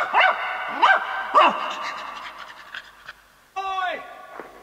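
A dog in an audiobook dramatization of an Enid Blyton Famous Five story pants in three rhythmic bursts, then lets out a loud, close yelping bark after a short pause.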